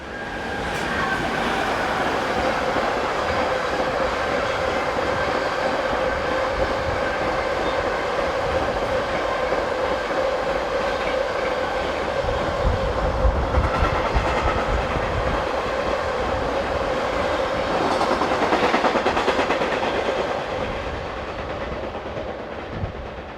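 An electric locomotive, class 189, hauls a northbound freight train of cargo wagons past on a European rail line, with a loud continuous rumble, wheel clatter and a tonal whine that fade slightly at the end.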